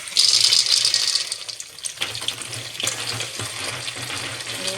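Lentils and peanuts frying in oil for lemon rice, a bright close sizzle with scattered crackles and a few stirring clatters, fairly loud and continuous without voices.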